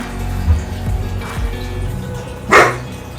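A puppy gives one short, sharp bark from across an indoor room during an evening painting session, with low room noise around it and a fainter yip earlier.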